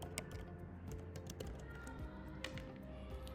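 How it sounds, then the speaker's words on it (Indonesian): An email address is typed on a computer keyboard in quick, irregular close-up keystrokes, a steady patter of taps with no voices. "ketik kembali emailnya"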